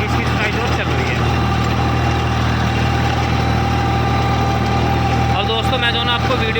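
A diesel tractor drives a 10-foot rotavator through field tillage, its engine a steady loud low rumble with constant vibration throughout, and a voice talks over it.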